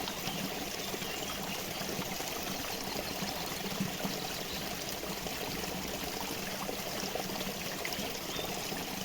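A small mountain stream runs beside a stone footpath in a Rize picnic park in Turkey, a steady, close rush of flowing water that stays even throughout with no voices.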